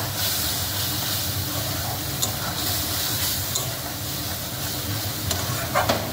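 Cumin and coriander sauté in a hot pan with a continuous soft sizzle and hiss. Faint occasional scrapes and clinks come through close by.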